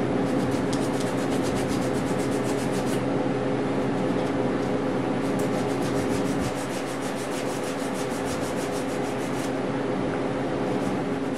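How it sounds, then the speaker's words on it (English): Steady rhythmic rubbing of a sanding block on a glued plug inside a Martin D-28 acoustic guitar, close and continuous with even back-and-forth strokes and a faint hum beneath. "you can sand this out"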